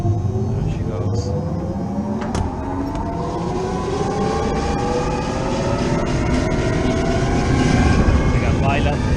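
A gas-fired HVAC furnace burner lights from its pilot and comes up to high fire, producing a steady, loud roar with a low rumble that holds throughout. A voice speaks faintly over it.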